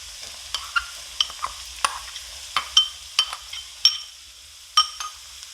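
A crushed coconut mix for mixed vegetable thoran fries in coconut oil with a soft background sizzle. Frequent sharp scrapes and clinks of a spoon against the pan punctuate it as the mixture is stirred up close.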